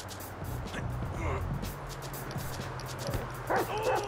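A leashed dog in Grand Theft Auto V gives a few short barks and yips, fairly faint against a steady game background hum, with brief voice-like sounds near the end.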